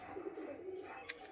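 A flying-breed pigeon coos softly nearby in a brief, low, wavering phrase, faint against quiet background noise, with a short sharp tap near the end.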